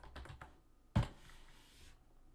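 Quiet keystrokes on a computer keyboard during password-validation coding: a few soft taps, then one sharper key hit, all faint and close in an otherwise hushed room.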